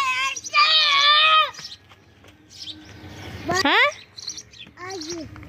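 Loud bird chirps and whistled calls close by, a long warbling burst followed by shorter rising tweets, with a brief spoken exclamation between.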